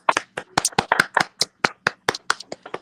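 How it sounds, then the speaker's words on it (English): Several people on a morning radio show clap in quick, distinct bursts close to the mic, each clap crisp and clearly separated, with a brief voice in the mix. "let's clap."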